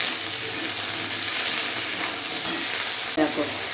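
Okra and small fish fry in a pan with green chillies, turmeric and salt, hissing loudly and steadily up close while a utensil stirs and scrapes through them, with a brief knock near the end.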